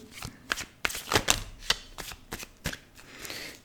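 Tarot cards shuffled close up, giving a series of crisp flicks and riffling slaps in irregular bursts, some louder than others, with no voices.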